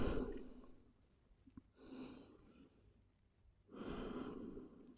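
Slow, deep breaths in a yoga child's pose during a dynamic leg-strengthening session: a long exhale, a quieter inhale, then another strong breath, close and airy with no talk.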